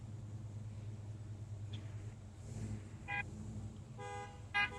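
Car horns honk a few short times over a steady low rumble of engines at a rolling car show at dusk in Doylestown, with classic cars such as a mid-1950s Chevy Bel Air passing at a moderate distance.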